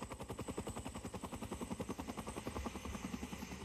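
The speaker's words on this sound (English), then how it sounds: "a helicopter is resupplying a field camp" A helicopter resupplying an Antarctic field camp of the United States Antarctic program, its rotor beating in a fast, steady chop with a strong low pulse, loud and near throughout.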